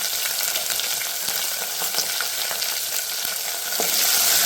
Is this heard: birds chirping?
no